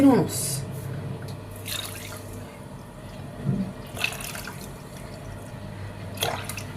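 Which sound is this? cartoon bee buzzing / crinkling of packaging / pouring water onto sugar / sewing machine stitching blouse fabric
pouring water onto sugar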